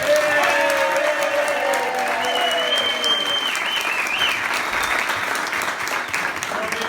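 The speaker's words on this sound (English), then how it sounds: "I would like a big round of applause for Bobby and Patty Rowland for letting us." Car club audience gathered in a private home breaking into loud, sustained applause that continues evenly from start to finish, with a faint tonal hum running underneath.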